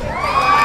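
Brief surge of student supporters cheering and shouting at a school quiz competition, a dense crowd roar of young voices held for under a second.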